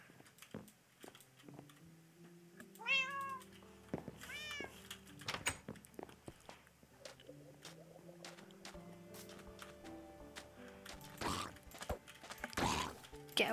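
Minecraft cat meowing in a game world, a couple of short meows amid clicks, steps and other game effects, with someone talking over much of it.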